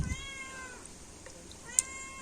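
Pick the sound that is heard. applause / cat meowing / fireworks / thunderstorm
cat meowing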